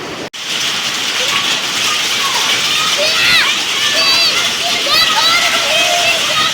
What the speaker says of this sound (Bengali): অনেক বেশি বৃষ্টি হচ্ছে